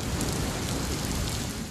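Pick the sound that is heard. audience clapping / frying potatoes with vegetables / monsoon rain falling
monsoon rain falling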